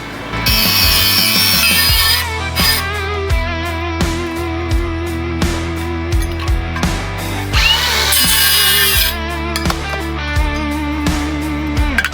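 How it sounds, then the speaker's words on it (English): Power grinder whining against a junkyard turbo part being ground down to fit, loud and close, with sustained tonal motor drone broken by bursts of cutting and brief pauses. "We'll just grind it a little bit till it fits."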